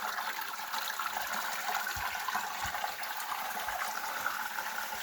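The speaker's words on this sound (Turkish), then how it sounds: "şelalenin kaynağına geldik. Dağın içinden böyle doğuyor." Spring water of a waterfall near Erfelek, Sinop gushes out of a mountainside, a close, steady rushing and bubbling flow with a few low thumps and no talk.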